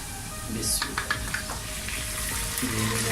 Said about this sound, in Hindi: अब मैं इसके अंदर मटन ऐड करता हूँ